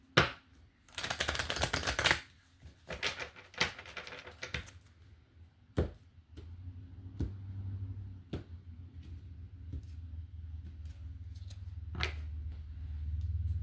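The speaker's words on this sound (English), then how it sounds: "One more shuffle for Capricorn." A deck of tarot cards is shuffled in quick, crisp bursts, with riffles and taps alone in a quiet room, close and fairly faint, followed by a low steady hum.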